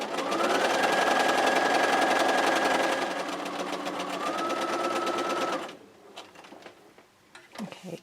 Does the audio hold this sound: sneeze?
no